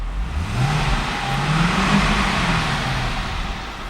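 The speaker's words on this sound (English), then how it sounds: "I'm going to rev the engine." A supercharged 6.2-litre V8 in a 2012 Cadillac CTS-V revs steadily, its pitch sweeping up, holding, and falling back over a low, continuous engine rumble, loud and close with no talk.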